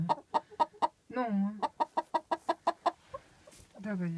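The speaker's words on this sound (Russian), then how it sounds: "Курица села на яички, да." A hen sitting on eggs in winter clucks in a quick, rhythmic run of short clucks, close by, with a drawn-out croaky call in between and a voice faintly present.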